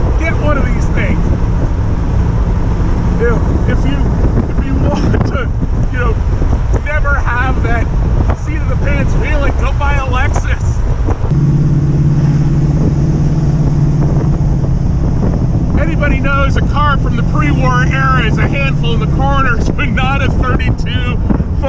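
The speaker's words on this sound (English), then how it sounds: "2032 Ford Roadster hot rod." A 1932 Ford Roadster hot rod on the move, riding on wide tires with a 4-link suspension: steady engine drone and rushing wind buffeting the microphone throughout, with people talking over it inside the car.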